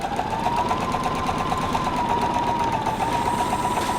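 A steady, close whirring hum comes from a sewing machine stitching a seam, running continuously without pause at an even pace.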